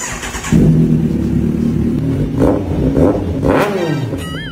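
A Kawasaki Ninja 1000 SX with stock exhaust starts up close and settles into a loud, steady idle, then takes two sharp throttle blips that rise and fall.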